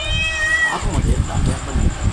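A cat lets out a drawn-out meow near the start, then people talk loudly over the background.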